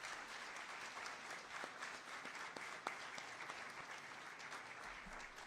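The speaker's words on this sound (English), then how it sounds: "Let's give him a round of applause for your awesome efforts." A crowd applauds Florida State Trooper Orlando Morales, honored for rescuing a dog, at an animal rescue ranch event; faint, distant steady clapping holds for several seconds with a few sharper claps standing out.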